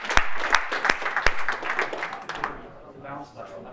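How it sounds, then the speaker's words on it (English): A small group claps in a room, several sharp distinct claps at first followed by looser scattered clapping that fades out, with people talking faintly underneath. "Round of applause as well."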